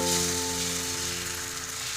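Appam batter poured into a hot pan sizzles steadily, a loud, close hiss that holds for the whole stretch with no talk.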